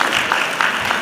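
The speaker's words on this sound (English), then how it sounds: "Please clap for me." Brief burst of clapping from an audience at an employment summit, a quick rapid patter of hands lasting about a second, fairly loud and close.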